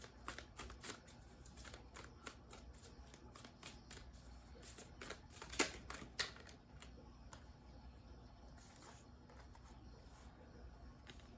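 A deck of tarot cards shuffled by hand in steady riffling bursts, with a couple of sharper slaps of cards near the middle, at a quiet close level with no talking.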